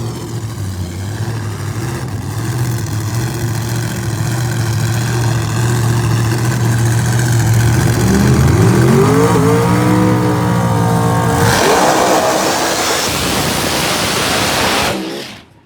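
Jay Newsom's turbocharged Pro Mod drag car from Smokey's Garage runs at Empire Dragway. Its engine idles loud and close with a steady throb, then revs up and climbs in pitch before cutting off abruptly at the end.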